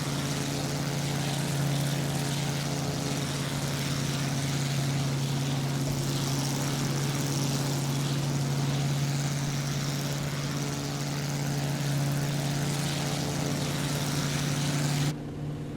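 A BF 108 Taifun propeller engine in Microsoft Flight Simulator drones steadily in a loud, continuous hum with a low buzzing tone, running unbroken for the whole stretch and cutting off abruptly at the very end.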